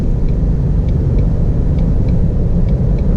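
A 2019 Ford Mustang GT Performance Pack V8 pulls under light throttle, a loud, steady low rumble heard from inside the car with faint periodic ticks over the top and no speech.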